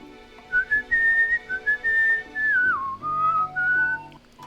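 A person whistles a tune in the middle of a casual drawing session, a wavering melody that slides down partway through, a few phrases with short breaks, close and alone.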